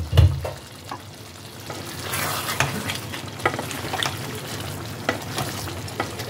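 A spoon stirs paneer through a white pepper gravy in a pan, making loud repeated scraping and stirring strokes over a soft bubbling sizzle, with a sharp clank at the start.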